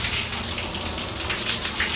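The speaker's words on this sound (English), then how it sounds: "So there's one that is a waterfall." The waterfall setting of a shower in a cruise ship cabin bathroom on the Celebrity Apex runs in a steady, full hiss of falling water, close and constant, with no talking.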